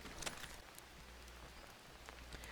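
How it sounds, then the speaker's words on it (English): Rain in the survival video game Green Hell, a steady soft patter of drops falling on surfaces with a low constant rumble underneath, moderately quiet and continuous with no talking. "So since it's raining out here"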